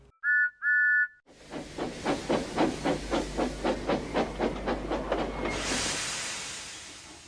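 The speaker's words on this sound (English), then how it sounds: "At the station, Jimbo and the ladies were waiting anxiously when they heard a whistle" A steam train arrives at a station: two short, sharp whistle toots, then rhythmic chuffing that slows and gives way to a long, loud release of hissing steam.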